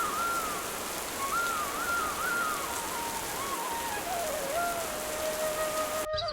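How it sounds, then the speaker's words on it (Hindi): Steady rain falls without pause in a cartoon story scene, a dense even hiss that fills the whole clip while a faint wavering tone drifts above it, with no talk. "लगातार 4-5 दिन तक बारिश होती है।"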